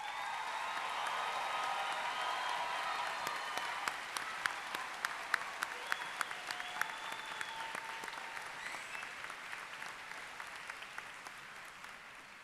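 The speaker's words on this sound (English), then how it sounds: "let's give our graduates one final round of applause." An audience at a university spring commencement ceremony applauds the graduates: dense, sustained clapping that thins gradually into sharper, more scattered individual claps as it winds down.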